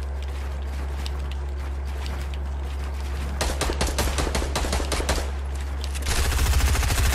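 Gunfire in Fortnite Battle Royale: faint scattered shots give way to a rapid burst of close, sharp shots, then a louder dense stream of automatic fire at the end over a constant low game hum, with no talking.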